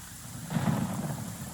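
Rain falls steadily in Genshin Impact, and a low roll of thunder swells briefly beneath the patter before fading back.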